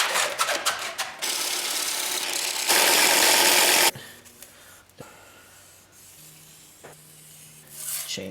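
Belt grinder running a 36 grit zirconia belt while shaping a forged folding knife, with bursts of loud harsh rasping grinding, then quieter lulls with motor hum and handling noises between passes.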